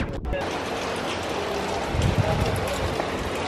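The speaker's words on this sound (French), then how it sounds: "Il pleut." Rain falls outdoors on a lockdown day, a dense, steady hiss and patter on surfaces that fills the whole stretch at a fairly loud level.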